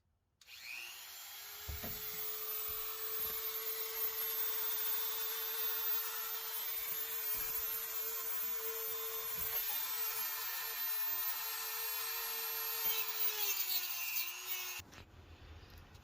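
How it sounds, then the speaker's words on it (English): A Dremel rotary tool cuts through hard plastic molding inside a Ford E-350 Econoline camper van, whining steadily and loud for about thirteen seconds before winding down and stopping. "I'm going to use the Dremel tool to cut out the plastic molding where these rails go."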